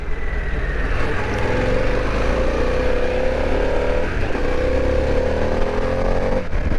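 A new 2022 Harley-Davidson motorcycle of about 153 horsepower runs under steady engine drone with a slight rise in pitch, mixed with heavy wind noise and no talking.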